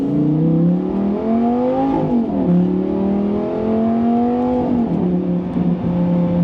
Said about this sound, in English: We'll do an acceleration, feel this car out